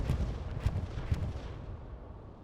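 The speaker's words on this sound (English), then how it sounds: "There's another bombing run coming in on chapel. Bombing run, a little strafing run." Bombing and strafing run in a World War II video game tournament match: a dense, continuous rumble of distant blasts and gunfire, with a few heavier thumps early on, fading slightly toward the end.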